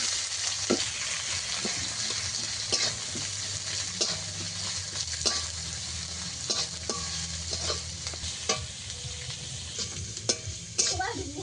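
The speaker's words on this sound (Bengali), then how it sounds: "পেঁয়াজটাকে ভালোভাবে ভেজে নেব।" Chopped onion fries with nigella seeds in hot oil, a continuous close crackling sizzle broken by frequent clicks and scrapes of a stirring spoon against the pan.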